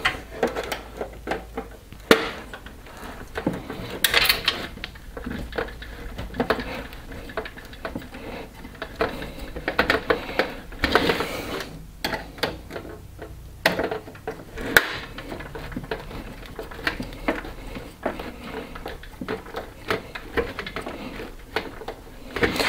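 Irregular mechanical ticking and clicking with light metallic handling noises as a screwdriver drives fan screws into a Bitfenix Colossus M PC case, close by, continuing steadily without speech.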